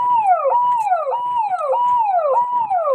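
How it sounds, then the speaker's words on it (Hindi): Ambulance siren wailing loudly and close, a repeating rising-and-falling electronic tone cycling about every half second throughout, at a disaster-response demonstration. "आप देख सकते हैं कि जैसे एम्बुलेंस आ रही है"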